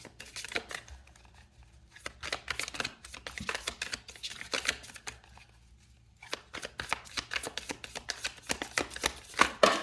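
Tarot cards being shuffled and drawn by hand for a pick-a-card reading, giving bursts of quick papery riffling and flicking with short quiet pauses between them, close up and without talk.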